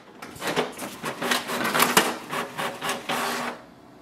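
A Canon MAXIFY GX4020 inkjet printer runs a test page, giving a close, rhythmic series of mechanical clacks and whirring feed strokes for about three seconds before stopping.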